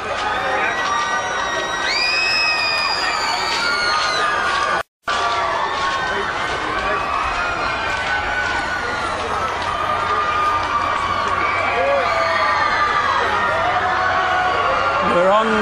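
Fans outside court cheer and shout as Michael Jackson walks out after the 2005 verdict, a loud, sustained crowd roar with whoops and screams rising throughout.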